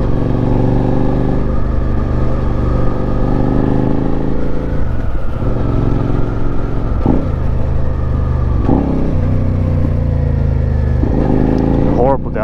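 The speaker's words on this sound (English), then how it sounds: "Downshift from third to second there." A Suzuki SV650 motorcycle rides along with a steady loud engine drone and wind, punctuated by several jolty gear changes including a downshift from third to second, while a rider talks over it.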